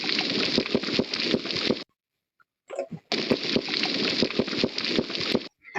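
A reef croaker fish makes drum-like underwater banging, rapid bursts of close, sharp knocks in two long volleys separated by a short silence with a few scattered knocks between.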